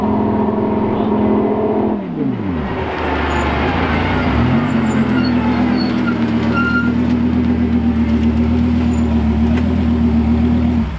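A flame-shooting Lamborghini race car engine runs loud and close, its steady droning note dipping sharply around two seconds before settling into a sustained, rough high-pitched roar.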